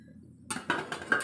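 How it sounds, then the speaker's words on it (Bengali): Metal pot lid set onto a cooking pot of sukto vegetables, a few clinking, clattering knocks after a moment of quiet, close and moderately loud. "আমি এটাকে ভালো করে আবার ঢেকে দিচ্ছি"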